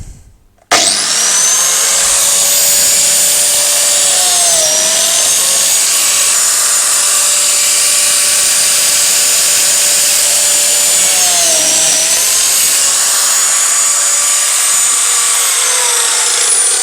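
A biscuit joiner cuts slots into a 15 mm wood panel, its motor whining loud and steady for the whole run, with slight dips in pitch as the blade bites into the wood at two points.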